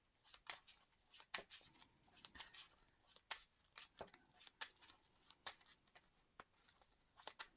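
Playing cards from a deck being shuffled by hand, a steady run of crisp riffling snaps and flicks at close range with no talk.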